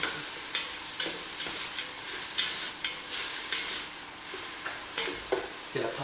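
Beef pot pie filling frying in a hot pan, a loud continuous sizzle close up with regular stirring scrapes pulsing through it about once a second.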